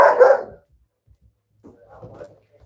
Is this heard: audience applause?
no